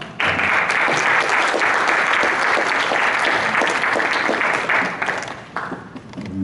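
Audience applause greeting a preacher at the opening worship service of a Methodist pastors' spiritual retreat in a church hall. Loud, sustained clapping from a large crowd lasts about six seconds, then thins out toward the end.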